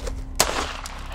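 A single sharp handgun shot cracks out once amid low background noise, close and abrupt, during self-defense practice firing at a small egg target after drawing while moving.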